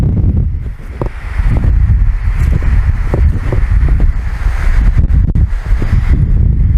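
Strong wind at a seaside beach buffets the microphone with a steady low roar and rumble, gusting continuously throughout, with faint surf-like wash underneath.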